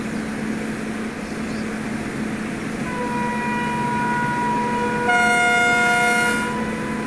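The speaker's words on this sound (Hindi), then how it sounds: "ये बांद्रा टर्मिनस से गोरखपुर को जाने वाली अवध एक्सप्रेस है" In the Open Rails train simulator, the Avadh Express from Bandra Terminus to Gorakhpur approaches with a steady rail rumble and droning horn tones, then a louder, brighter horn blast sounds near the end.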